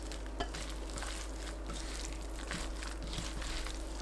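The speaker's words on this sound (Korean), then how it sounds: "연근 넣고 버무립니다." Lotus root tossed with minari, soybean paste and perilla oil makes soft, continuous wet stirring and squelching. It is close, quiet and steady, with small clicks from the utensil and a low hum underneath.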